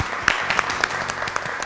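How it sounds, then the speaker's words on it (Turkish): Studio audience applauding both competing teams on a Turkish TV game show, a short burst of scattered clapping with a few sharper individual claps, moderately loud and steady. "Ve iki gruba da alkış gelsin bakalım."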